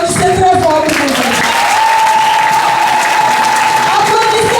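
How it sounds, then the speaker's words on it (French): Loud, steady applause from a church congregation during a children's day Sunday service, filling the whole stretch with dense clapping while a voice talks over it. "Applaudissez très fort pour vous."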